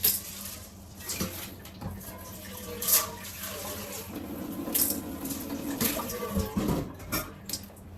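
Water is poured into a multi-purpose pressure cooker for beans, a soft uneven trickling and splashing with a few clinks of the pot, moderately close with no talking.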